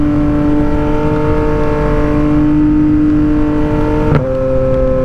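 Yamaha MT motorcycle pulling hard under acceleration, a steady close engine drone with one quick-shifter upshift cut and engine note drop near the end, no talking.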